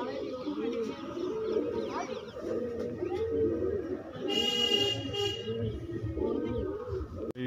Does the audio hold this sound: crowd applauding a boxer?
no